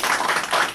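Brief burst of dense clapping from a few people at a Korean presidential campaign press conference, a steady patter of handclaps filling the short moment with no talk over it.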